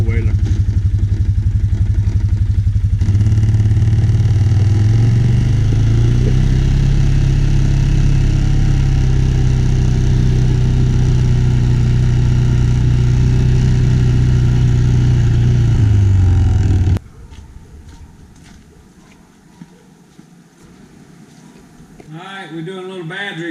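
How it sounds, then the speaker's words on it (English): A four-wheeler ATV engine hums steadily and close during a ride, its pitch rising slightly, then cuts off, leaving quiet handling noises and a voice. "me and Pete's on the four-wheeler now"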